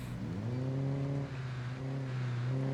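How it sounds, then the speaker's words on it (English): A car reversing in the Project Zomboid video game, its engine holding a steady low tone with gliding pitch changes as it revs, loud and close with no other sounds. "I forgot, it's really loud to back up a car."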